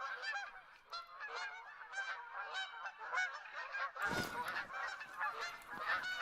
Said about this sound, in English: Geese absolutely everywhere.